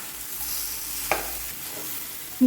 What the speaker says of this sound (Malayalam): മധുരക്കിഴങ്ങ് വേവിച്ചുടച്ച് പാലക്കാടൊക്കെ ചക്കര വെള്ളിക്കിഴങ്ങ് എന്നാണ് പറയുക